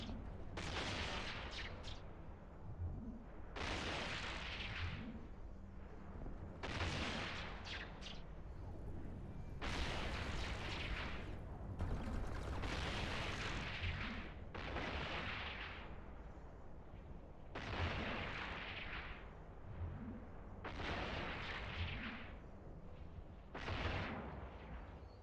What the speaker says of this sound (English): So, it takes 60 shots to fully ramp our guns.